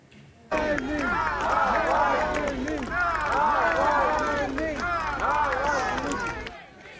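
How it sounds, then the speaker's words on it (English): Hundreds of mourners chant Navalny's name and applaud at his funeral outside a Moscow church as his coffin arrives, a dense, sustained roar of rhythmic chanting voices with clapping that carries steadily throughout. "you can hear the crowd of hundreds chanting his name and applauding"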